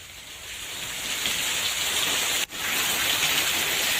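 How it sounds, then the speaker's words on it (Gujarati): Monsoon rain falls around Dhari, Sarsiya and Khokhra in Amreli district, Gujarat, as a steady even hiss with one very brief break partway through. "ધારી, સરસિયા, ખોખરા સહિત આસપાસના વિસ્તારોમાં વરસાદ શરૂ થયો છે"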